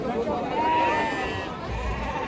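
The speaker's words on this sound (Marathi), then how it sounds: "मेंढ्या पाहू शकाल माडगावमध्ये इकडं" Sheep bleat at a large goat, sheep and poultry livestock market in Maharashtra, a close, wavering cry lasting about a second amid crowd murmur and talk.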